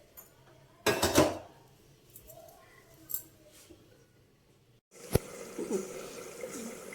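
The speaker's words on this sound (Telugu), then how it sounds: "మూత పెట్టుకుందాం." A metal lid clatters onto a cooking pot of fish and cucumber curry, first as a sharp clanking burst and then as a second knock a few seconds later, close and clear over a quiet kitchen background.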